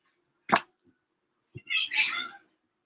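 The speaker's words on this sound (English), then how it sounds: "Scooter, my mischievous, ornery little kitty." A small house cat gives a short sharp sound, then after a pause a longer, drawn-out meow, close and fairly quiet, with nothing else around it.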